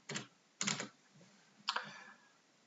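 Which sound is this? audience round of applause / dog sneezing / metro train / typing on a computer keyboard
typing on a computer keyboard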